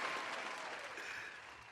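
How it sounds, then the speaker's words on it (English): A short burst of steady clapping and applause from a group, fairly even in loudness throughout. "Give him a round of applause."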